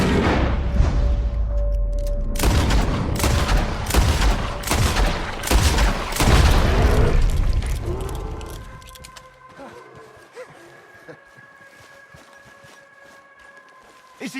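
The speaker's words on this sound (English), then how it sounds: "Shoot that thing, please!" A fusillade of gunshots and heavy booms rings out in Red Dead Redemption 2, loud and rapid for several seconds, then fades to quieter ambience with scattered small sounds.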